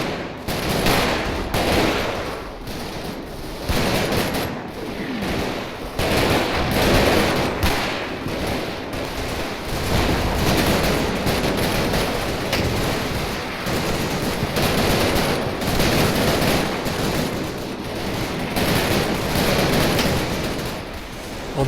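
Sustained suppressive machine gun fire in the Combat Mission wargame set in Normandy and Holland, 1944, with dense overlapping bursts and rattling volleys roaring continuously, loud and close, with no speech over it.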